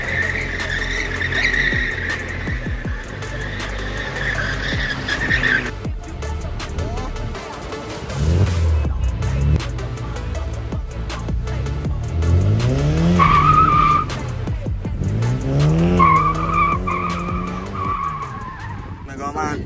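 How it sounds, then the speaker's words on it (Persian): A Toyota Cressida does donuts, its tires squealing in long, wavering skids over the revving engine, with a pause midway before the screeching climbs again, and people talk nearby. "برو بزن دوناتو بزن."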